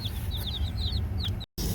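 Chickens cluck and chirp in quick high bursts at an off-grid trailer in Alaska, over a low rumbling background, close by, with a brief drop to silence near the end.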